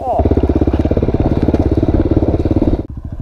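A motorcycle rolling down a steep rocky mountain descent, its engine chugging in fast regular pulses, loud and close, then dropping abruptly to a softer, slower putter near the end.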